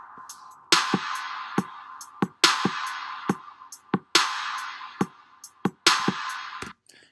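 Slow hip hop drum beat with loud, bright snare or clap hits landing at regular intervals, separated by lighter kick and hat hits, looping evenly with no voices.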